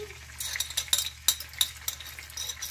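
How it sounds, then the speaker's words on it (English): Garlic cooking in olive oil and butter in a pan, a soft continuous sizzle broken by repeated light utensil clicks and scrapes, close and fairly quiet. "I'm just going to let this garlic cook up for a little bit"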